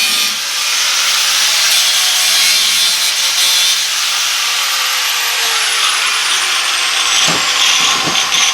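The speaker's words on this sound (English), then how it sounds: "use a cutoff wheel, cut these notches out and bend it over" A cutoff wheel grinding notches into a steel rear bumper for a Jeep Wrangler YJ, a loud continuous high-pitched abrasive whine that holds steady close up, with a few knocks near the end and no talk.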